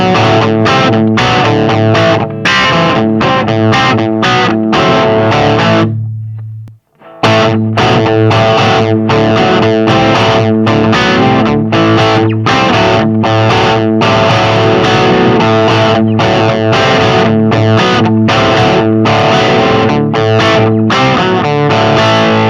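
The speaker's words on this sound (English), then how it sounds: "here we go with the sort of mid-range distortion. You know, rhythm crunch" An Ibanez Jem Junior electric guitar plays a loud mid-range distorted rhythm crunch, steady chugging strummed chords with a brief pause partway through before resuming, close and alone with no voices.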